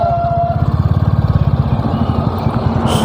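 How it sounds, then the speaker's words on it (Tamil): A Royal Enfield 350 motorcycle idles close by with a loud, rhythmic thump, evenly spaced pulses that loosen and fade toward the end, with no talk. "நல்லா பயங்கரமாக இருக்குதுப்பா, டப்பு டப்பு டப்பு டப்புன்னு சவுண்டு"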